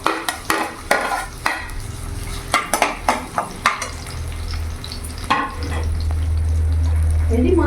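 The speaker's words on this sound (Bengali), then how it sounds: "এবার ওই কড়াইয়ের মধ্যেই আমি বিনসগুলো ভেজে নেব।" Beans fry in a wok with a spatula stirring: a run of rhythmic metallic scrapes and knocks over a crackling sizzle that swells into a louder, steady hiss near the end, all close by.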